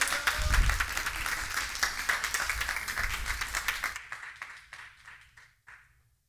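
A church congregation at a Friday worship service applauds to welcome the pastor, dense steady clapping that thins into a few scattered claps before fading out.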